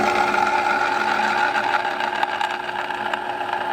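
A drill bit bores slowly under medium pressure through the rivets of a Honda CBX clutch, producing a steady, close, continuous motor whine with a gritty metallic edge throughout.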